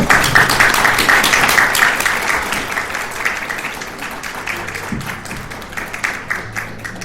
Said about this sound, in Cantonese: 我哋喺呢度再一次用熱烈嘅掌聲，多謝葉月珍同我哋嘅分享